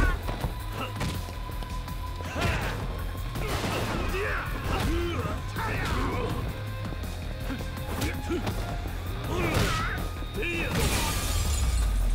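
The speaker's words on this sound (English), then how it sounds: "And through the glass he goes." Glass shatters as an enemy is thrown through it during a street brawl in Yakuza 6, a crash with scattered debris over steady game noise and occasional talk.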